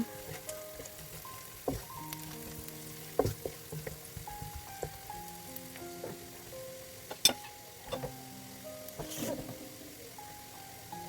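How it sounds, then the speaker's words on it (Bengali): Onions sizzle gently in a pan with turmeric powder stirred in, a soft steady frying crackle punctuated by scattered clicks and utensil taps. "এখন পেঁয়াজগুলোকে হালকা বাদামি কালার করে ভেজে নিব দিয়ে দিলাম হলুদ গুঁড়া"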